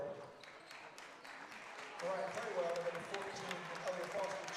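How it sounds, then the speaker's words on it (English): Home crowd applauding at an HU women's basketball game against Bethel, with quiet clapping that swells into steady applause about halfway through while a commentator talks over it. "Nelson as well gets a nice applause from the home crowd"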